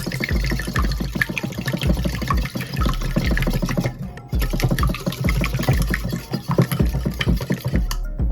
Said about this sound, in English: And then I'm just going to whisk that all together.